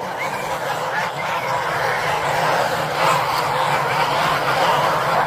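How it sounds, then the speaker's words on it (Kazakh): Domestic geese honk and cackle in a dense, continuous flock chorus as they are let out in the morning toward a spring, overlapping calls steady and fairly close throughout. "Осылай қаздар шығарамыз."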